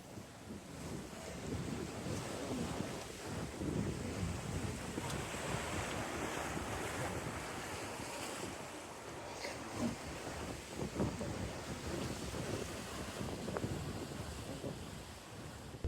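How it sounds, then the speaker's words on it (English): Strong wind buffets a sailboat at sea during a Pacific crossing, a loud continuous roar of gusts and microphone rumble over rushing waves and water against the hull, with no talking. "Cardo cuts out the wind pretty well, and it's fairly windy today."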